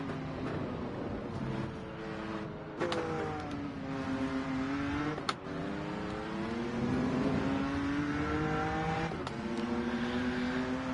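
A BMW M2 race car in the Rennsport racing game revs and accelerates continuously, its engine note rising and falling through gear changes with a few sharp clicks, loud and close with no talk.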